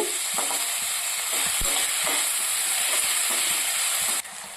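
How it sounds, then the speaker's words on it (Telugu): Onions and green chillies frying in a pan for a tuna fish curry, a loud continuous sizzle with repeated scraping stirs close by, then a sudden cut in the hiss near the end. "ఈ ఆనియన్స్ బాగా ఫ్రై అవుతాయి కలుపుకుంటూ ఫ్రై చేసుకోవాలండి అడుగంటకుండా"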